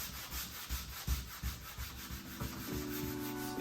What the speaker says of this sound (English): I'm going to sand this down so the stickers stick on here nicely.